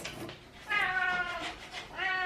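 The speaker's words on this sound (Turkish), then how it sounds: "Kedi de geldi." A cat meows twice up close, each call a drawn-out, wavering cry with a short pause between, and faint room sounds underneath.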